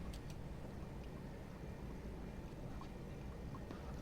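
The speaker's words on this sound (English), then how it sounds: "that there must be the motorboat that's trying to find us right now" A motorboat engine drones steadily in the Silent Hunter III submarine game, a continuous low rumble with broadband wash, moderately loud and unbroken, with no voices over it.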